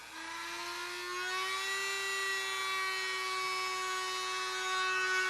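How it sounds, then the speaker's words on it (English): A Dremel rotary tool fitted with a small milling bit routes the wooden top of a PRS guitar, giving a steady high-pitched whine with a slight rise in pitch, close and continuous throughout. "So what I've got is a little milling bit here on my my Dremel"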